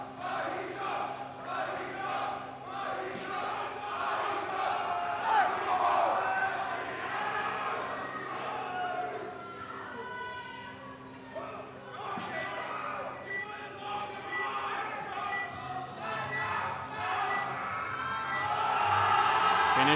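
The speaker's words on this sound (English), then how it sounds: "There's a very good sized crowd in here this evening for the 83s" Large crowd at a junior powerlifting world championship venue for the 83 kg class, a steady roar of cheering and shouting echoing through the hall, with commentary talk running over it.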